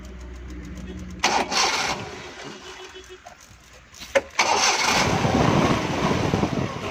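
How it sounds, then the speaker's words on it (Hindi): Petrol engine of a Suzuki Bolan van cranking and catching after fuel tank and line cleaning, with short starter bursts before it fires and settles into a loud, rough idle close by, with someone talking. "ये गाड़ी हमारी बिल्कुल पेट्रोल पर स्टार्ट हो गई है।"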